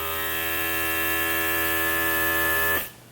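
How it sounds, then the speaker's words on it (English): A Luminess Air airbrush makeup compressor runs loudly and steadily with a strong harmonic motor hum, then cuts off near the end, leaving quiet. "It's a freaking air compressor."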